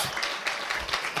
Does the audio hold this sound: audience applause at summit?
yes